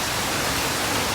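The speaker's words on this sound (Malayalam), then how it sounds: "ഇതാ കിടിലം മഴ അടിപൊളി വേറെമാതിരി മഴ" Heavy rain pours in Bangalore as a loud, uniform rushing hiss that fills the whole moment, close and unbroken, with no voices.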